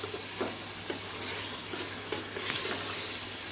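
Mutton frying in a pot for a gobhi gosht curry, a soft continuous sizzle broken by faint scraping taps of a spoon stirring, quiet and close with no speech.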